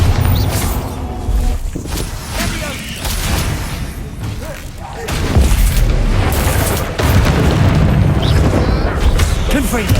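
Spell blasts in the video game Hogwarts Legacy, a dense run of loud booming explosions and crackling bursts that fill the whole stretch, with a voice calling out spell names over them.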